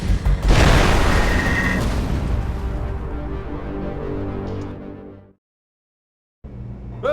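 A heavy explosion in the video game Gangster Rio, a loud booming blast that rumbles and decays over several seconds, then cuts to silence before a low rumble returns.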